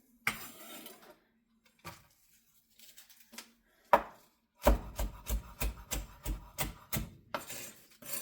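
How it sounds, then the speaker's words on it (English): A kitchen knife rough-chopping stacked bacon on a cutting board: a few scattered cuts, then a quick run of about ten firm, evenly spaced chops, close and clear with no talking. "You just want to do a rough chop on your bacon."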